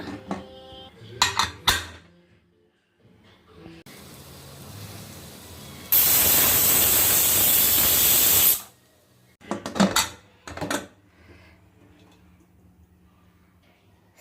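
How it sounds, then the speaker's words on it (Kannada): A pressure cooker holding potato curry lets out a loud, sharp steam whistle lasting a few seconds, set between quieter kitchen clatter of pots and utensils. "ಇವಾಗ ಒಂದು 3 ವಿಸಿಲ್ ಬರೆಸ್ಕೊಳ್ಳೋಣ."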